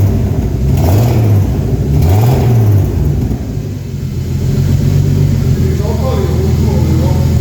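A turbocharged BMW E36 engine revs loudly in a few rising and falling bursts, with a noise coming from the front of the car and voices heard alongside.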